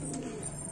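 Pigeons, including black-necked and wild Hyderabadi birds, give a soft, low coo close by, a brief faint murmur against background noise.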